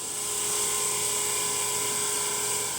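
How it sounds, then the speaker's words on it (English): Electric sander whirring steadily on a two-piece guitar top being flattened while building a 12-string guitar, a continuous high-pitched motor whine held at constant loudness, close and alone with no talk. "The sander gets them flat."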